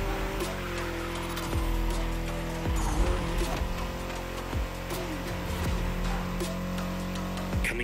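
A BMW M4 Liberty Walk Edition roars in the video game The Crew Motorfest, its engine droning loud and steady with repeated rev sweeps as gears shift and occasional tire squeals.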